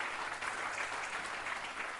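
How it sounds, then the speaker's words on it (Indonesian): Audience in a church service clapping, a dense, steady wash of applause that fills the whole moment at even loudness with no speech over it. "Berikan tepuk tangan."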